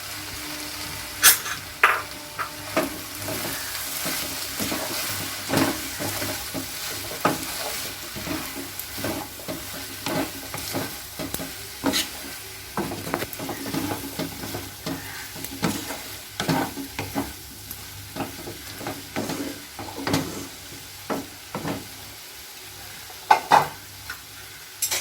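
Eggplant (brinjal) fries with salt in a pan, a continuous close sizzle broken by frequent scraping, clacking stirs of a spatula against the pan throughout.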